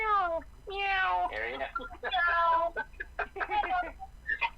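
A person imitates a cat, meowing repeatedly in a clear, close voice, the rising and falling calls coming in quick succession with short gaps.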